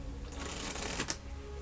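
Playing cards riffled and pushed together in a REVO false shuffle, a dense papery flutter throughout with a couple of sharper snaps near the end, close and moderately loud, no talking.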